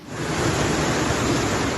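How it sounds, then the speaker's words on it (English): Surging floodwaters rushing down a normally scenic river or creek during flooding near Brisbane, a loud, steady broadband roar of churning water, close and continuous with no voices. "Normally scenic rivers and creeks are now surging."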